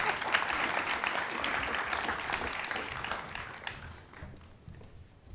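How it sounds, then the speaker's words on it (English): Conference audience applauding a sponsor speaker at the Booz Allen Hamilton Digital Summit, a dense round of many hands clapping that holds steady, then thins out and fades over the last seconds. "Let's give him a round of applause"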